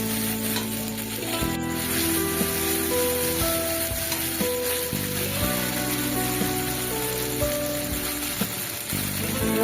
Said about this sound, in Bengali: যে মশলাটা পেস্ট করেছিলাম ওটা তেলের ওপরে দিয়ে দিলাম দিয়ে ভালো করে একটু কষিয়ে নিতে হবে